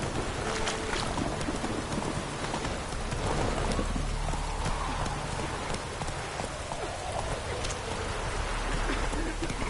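Horse galloping in the Witcher 3 video game, a steady rhythmic clip-clop of hooves running continuously at a constant pace, mixed with a dense rain-like wash of ambient noise throughout.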